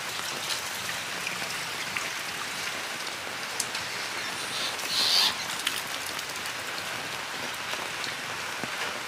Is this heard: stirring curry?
no